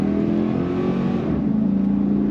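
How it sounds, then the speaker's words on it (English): A 2003 Chevrolet Silverado SS extended cab AWD pickup truck accelerates with a steady, close engine drone that holds strong and even throughout, heard from inside the cab with no talking. "Acceleration is quite nice. Great throttle response from this truck."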